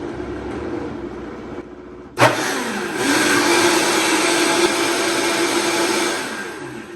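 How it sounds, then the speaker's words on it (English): Vitamix blender blending a kale green smoothie, starting with a sharp jolt and settling into a loud steady whirring roar that runs for several seconds before easing off. "now this blender is a Vitamix"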